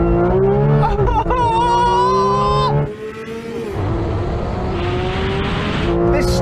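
A Porsche 911 GT3 and GT3 RS race side by side, their engines screaming up through the revs in close, loud pulls with a pitch drop at a gear change before climbing again.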